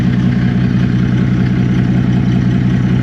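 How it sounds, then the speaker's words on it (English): Car engine idling steadily with a loud, noisy exhaust from a worn, broken exhaust, a constant low droning rumble with light clatter that runs unbroken and close. "find out why the exhaust is noisy"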